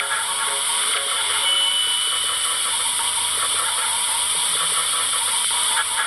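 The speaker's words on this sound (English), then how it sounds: "Be careful of the hot steam." Hot steam machine in a princess fashion salon video game, used for a pebble massage: a steady, loud hiss with faint mechanical ratcheting clicks running throughout, no voices.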